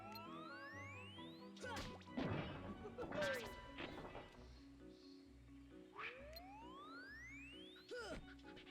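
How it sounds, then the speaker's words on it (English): In the Kingdom Hearts game, a nut is whacked back at Tigger's giant pot and shatters it, giving sharp smashing and thwacking hits mixed with rising chirpy game tones and whooshes, while a voice talks over it. "Whack the nut back at the pot to shatter it."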